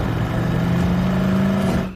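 A police car speeds along in a chase, its engine whirring and revving loudly up close in one sustained two-second surge before cutting off abruptly.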